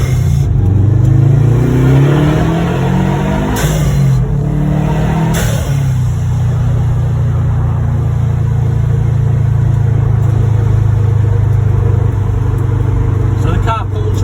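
A Subaru car on a test drive accelerates with a steady mid-pitched engine drone and rising revs, loud and continuous throughout, heard from inside the cabin.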